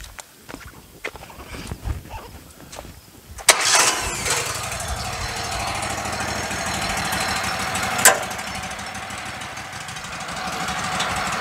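A small petrol engine on a Woodmizer LT15 Go sawmill turns over and starts after some quiet handling noises, then runs at a steady moderately loud idle with one brief louder burst.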